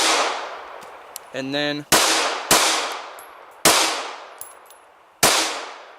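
An SCCY pistol fires five sharp, loud reports at uneven intervals, each followed by a ringing decay. A brief spoken phrase comes between the first two shots.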